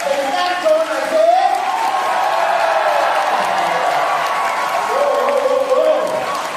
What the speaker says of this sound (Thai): ปรบมือให้กับซีโอน้องด้วยครับ